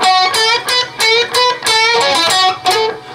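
Electric guitar plays a phrase, a run of bent, sustained notes with vibrato and a distorted, effects-rich tone, loud and close with no talking.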